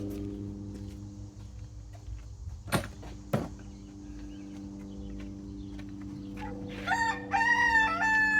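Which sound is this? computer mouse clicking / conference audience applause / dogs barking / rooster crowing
rooster crowing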